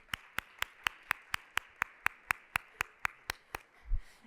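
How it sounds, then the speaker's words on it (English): At a Columbus Metropolitan Club forum, a single pair of hands claps in an even, measured rhythm of about fifteen sharp claps, close and distinct, before stopping with a soft thump. "So let's give them a quick round of applause"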